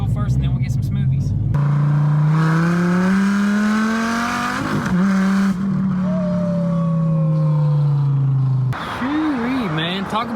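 A Ferrari 458 Spider's engine drones from inside the cabin while driving, a steady low tone that slowly rises and falls with a throttle surge near the end, with people talking over it.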